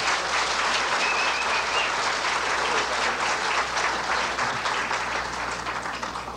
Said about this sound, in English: That's an applause cue.